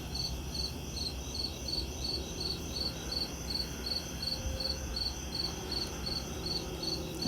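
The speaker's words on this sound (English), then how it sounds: "The cricket's pretty loud." A single cricket chirps loudly and steadily in rapid repeating pulses, close by against a quiet background, with no voices present.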